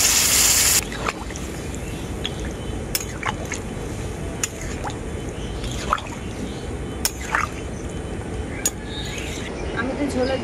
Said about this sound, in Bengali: এখন আমি এর মধ্যে দিয়ে দেবো ঝোলের জন্য পরিমাণ মতো জল।